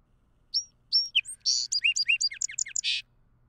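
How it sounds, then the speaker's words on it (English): An adult song sparrow sings its crystallized song, a few clear introductory whistles followed by a rapid, structured run of trills and buzzy notes ending in a burst, crisp and close with a faint low hum behind. "the adult bird that kind of has that like perfect or crystallized song"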